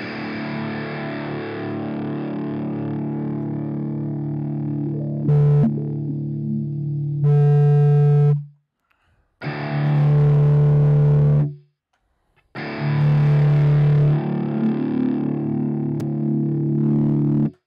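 Distorted electric guitar chords and held notes through a GarageBand amp simulator, with a heavy, boomy low end, played in bursts separated by brief silences.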